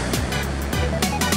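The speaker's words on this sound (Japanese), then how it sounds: "面の綺麗な波が" Clean winter surf on the Sea of Japan breaks in an offshore wind, with a loud continuous wash of waves and repeated bursts as the waves crash.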